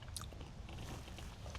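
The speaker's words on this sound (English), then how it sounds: "You can probably hear me chewing through the mic." Quiet, close-up chewing and biting of a meal with potatoes inside a hot tent at a camp, soft crunchy mouth sounds with no talking.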